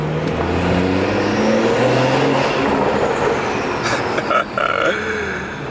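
A BMW 340 and an M340i on a night drive, engine droning steadily with rising revs and a few sharp crackles from the exhaust near the end, loud and close.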